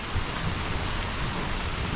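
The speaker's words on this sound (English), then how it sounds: "And still some more rain falling" Rain falling over a farm field, a steady, dense hiss of drops with no pauses, moderately loud and without talk.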